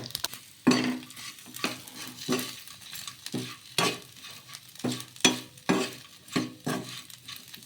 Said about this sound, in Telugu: ఇలా కొంచెం కొబ్బరి పొడి వేసుకొని మళ్ళీ ఒకసారి బాగా కలిపేసుకుందాం.